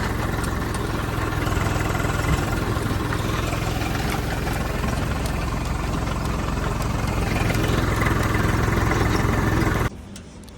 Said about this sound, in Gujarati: આપણી વાડીએ આવી ગયું છે ટેક્ટર